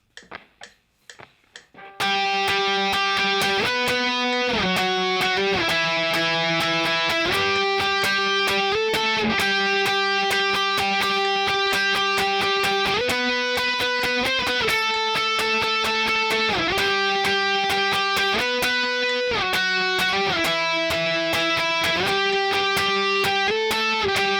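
Brief muted clicks, then a distorted electric guitar riff plays loud and continuous, repeating strummed chord changes in a steady driving rhythm.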